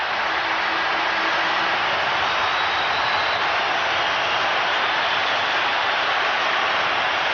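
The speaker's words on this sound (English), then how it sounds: "We haven't had crowd reaction like this, Stu" Crowd roaring at a 1995 NBA playoff game between the Sonics and Lakers, a dense sustained wash of cheering noise that stays loud and even throughout without a break.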